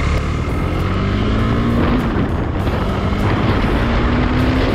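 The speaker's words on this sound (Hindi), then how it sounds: "बाइक तो अभी बंद होने लगी है" A KTM Duke motorcycle engine running low on fuel during a mileage test drones steadily and loudly throughout, a continuous close engine hum with a faint shifting tone and no talk.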